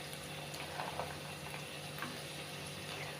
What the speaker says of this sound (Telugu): కాసేపు ఫ్రై అయిన తర్వాత చిక్కుడుకాయలు అయితే నేను వేసేసుకుంటాను